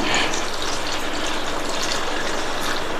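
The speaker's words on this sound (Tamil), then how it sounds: "நான் இதில் 3/4 டம்ளர் தண்ணி சேர்க்குறேன்." Water pours steadily into a cooking pan while making potato gravy, a continuous gushing, splashing flow close by with no voices.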